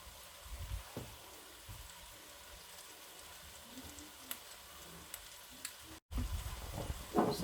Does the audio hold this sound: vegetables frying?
yes